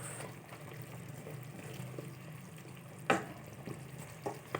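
Beef frying in a pan with garlic pepper seasoning, a steady low sizzle with occasional sharp clinks of stirring, no talking.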